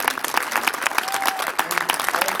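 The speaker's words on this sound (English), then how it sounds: "I want to take a moment and ask you all to join me in an applause" An audience applauds at Lori's dedication event, with dense, continuous clapping from a crowd over a brief stretch.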